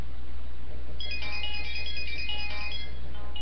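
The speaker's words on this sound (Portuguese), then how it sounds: "Ninguém merece telefone agora." Phone ringtone rings in a quiet room, a repeating bright electronic melody starting after a second of silence and playing through to the end.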